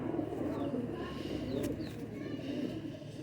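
Low, soft cooing from a Dub breed pigeon repeats in rounded phrases close by, with faint chirps and handling noise mixed in.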